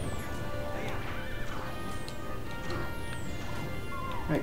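A horse whinnies in the Twilight Princess video game, a clear neigh rising over steady game ambience and background music, with hoof clatter nearby and a voice talking faintly underneath.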